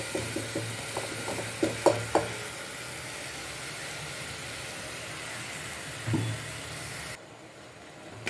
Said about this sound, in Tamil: இப்போ நம்ம அரைச்சி வச்ச மசாலாவை இதில் ஆட் பண்ணிக்கலாம்.